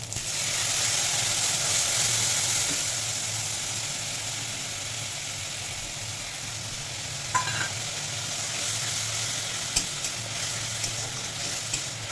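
Ground spices sizzle and fry steadily in hot oil in a pan while being stirred, a continuous close hiss with occasional scrape and clink of the spoon, no talking.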